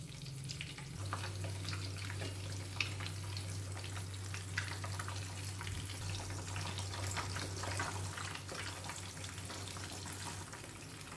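Eggs fry in hot seasoning in a pan with a steady, even sizzle and faint crackle running throughout, close and continuous with no talk.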